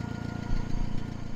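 A restored International 424 tractor engine idles steadily up close, a low, even rumble with a regular pulsing throb that grows slightly louder partway through, with no talking.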